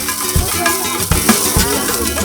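Bee honeycomb with larvae frying in a wok, with a busy sizzle and bursts of stirring scrapes and thumps, close and fairly loud, with no talk.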